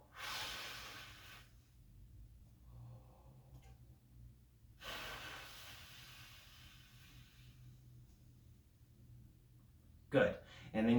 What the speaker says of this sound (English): you breathe in for 2 counts, good air, like you're yawning, and then you breathe out and focus for 4 counts